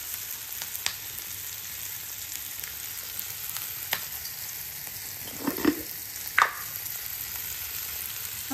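A little ghee added to hot cooking oil sizzles with a steady, soft hiss, broken by a few faint clicks and a brief stir near the end.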